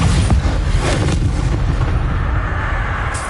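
Confringo spell blasts in Hogwarts Legacy boom loudly and densely, a rumbling explosive roar with crackling bursts that gradually fades over a few seconds.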